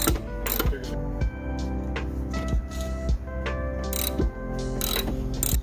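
Ratchet wrench with a 16mm socket loosening the long upper shock absorber bolts on a Dodge Magnum, loud close clicking with rhythmic pauses between swings.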